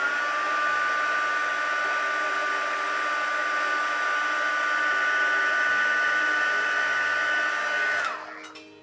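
A continuous, close hair dryer whir holds steady while heat-setting face paint, then switches off near the end and spins down into quiet.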